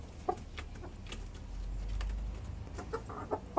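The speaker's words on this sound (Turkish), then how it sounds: "Kümesimize bir horoz dahil oldu bugün." A rooster and hens clucking and murmuring close by in a coop, scattered soft calls over a low background rumble, no speech.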